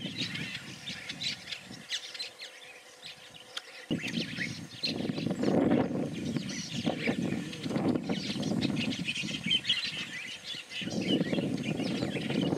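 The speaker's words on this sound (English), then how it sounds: "Here are the wattled starlings once more, without the breeding plumage." Wattled starlings call out of doors with scattered chirps and squawky notes over a steady, fairly loud background hum, several birds heard at middle distance.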